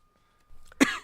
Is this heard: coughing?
yes